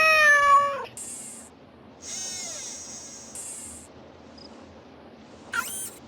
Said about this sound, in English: Who's my favorite robotic cat?